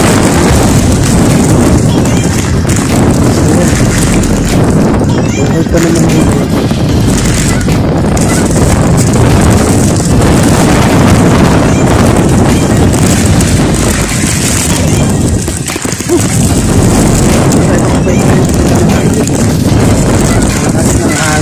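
Very strong typhoon wind buffeting the microphone in the open, a loud, constant roar with gusty surges that hardly lets up for the whole stretch, drowning out everything else.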